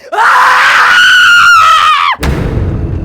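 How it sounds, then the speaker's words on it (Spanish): A long, piercing scream rings out loud and up close as a horror story sound effect, holding a wavering high pitch for about two seconds before cutting off into a rumbling, noisy tail. "El grito sacudió a todo San Miguel de Macuco, hoy llamada Orocue."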